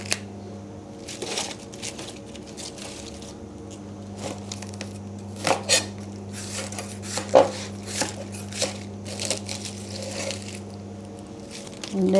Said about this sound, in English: Chinese leaf, you slice like this and easy to cook.